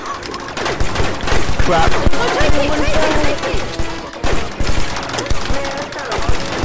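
Rapid gunfire rattles in continuous overlapping bursts during a Rec Room warfare match, loud and close, with excited voices shouting over the shooting.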